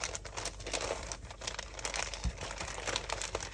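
Paper crinkles and rustles as it is handled, a soft, continuous run of close, quiet crackles and scrunches with no talking.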